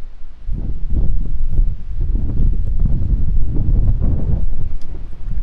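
Strong, gusting wind buffets the microphone on an open golf course, a steady low roar that swells and eases in waves for several seconds with no voices.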